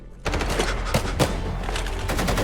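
Rapid automatic gunfire from a cartel shootout in an action film, with dense bursts of shots cracking close and loud over several seconds.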